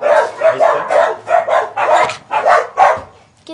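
A dog barks in a quick, steady run of about seven sharp barks over a few seconds, fairly close and loud, with no talk over it.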